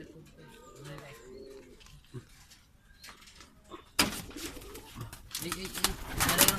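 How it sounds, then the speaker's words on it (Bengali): At a pigeon farm, pigeons coo softly nearby while a person talks, and louder rustling and clattering noise follows. "একটা কবুতর ধরে রাখছে।"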